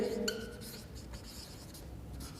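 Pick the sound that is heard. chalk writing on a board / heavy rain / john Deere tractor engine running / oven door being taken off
chalk writing on a board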